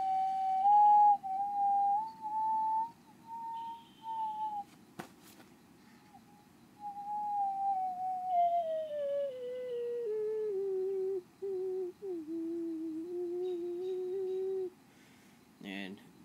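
A ceramic ocarina with dark gray areas plays a slow melodic line, clear pure tones gliding downward over the second half, close and fairly loud, with brief pauses between phrases and a soft hum beneath.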